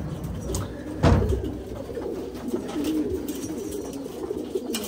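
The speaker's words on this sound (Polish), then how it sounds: "O, jest jeszcze kolejny gołąb." A pigeon coos softly and repeatedly against a low, steady background, with one brief louder thump partway through.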